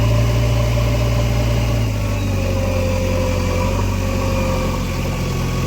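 A tractor's engine idles steadily while its trailer is filled with soil by an excavator bucket at a construction site in GIFT City. The low, loud drone continues without a break, with no voices.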